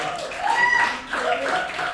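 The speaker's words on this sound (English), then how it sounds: "Okay, round of applause." Audience at a live comedy show applauds in a steady two-second burst of clapping, moderately loud and continuous with a brief dip midway, with no talk over it.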